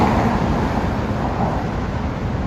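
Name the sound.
road traffic passing below Queensbridge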